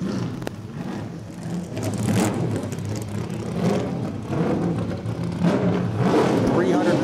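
A powerful vintage race car engine revs and roars at close range during a speed festival, its rumble rising and falling under crowd noise and some talk.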